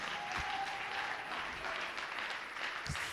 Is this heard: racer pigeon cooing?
no